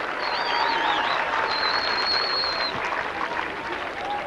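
Convention audience applauding at a 2008 event, a steady wash of clapping across the whole stretch with faint whistle-like tones above it and no talking.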